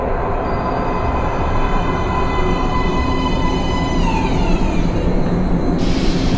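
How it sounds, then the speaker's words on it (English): In the Metro Last Light video game, a metro train pulls into a platform, a loud, steady rumbling roar with high screeching tones that bend downward as it slows, continuous throughout with no talk. "Please step away from the edge of the platform. Train coming in."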